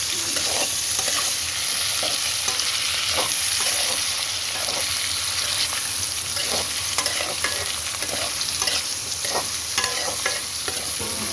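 Carrots with chana dal fry and get stirred in a hot pan, a dense continuous sizzle with scraping and clinking stirring strokes throughout, no voices.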